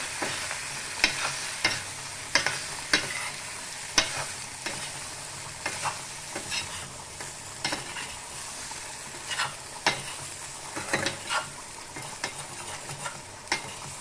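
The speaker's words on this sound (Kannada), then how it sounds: "ಚೆನ್ನಾಗಿ ಮಿಕ್ಸ್ ಮಾಡಬೇಕು." Chicken sukka being stirred with spice powder in a pan, a spoon scraping and clacking against the metal at an irregular rhythm over a soft, steady sizzle, close and with no talking.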